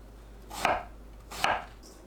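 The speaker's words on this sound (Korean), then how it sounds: "1cm 두께로 썰어줍니다" Two firm knife strokes chop through halved eggplant on a cutting board, each a crisp thunk about a second apart, close and clear with no talk.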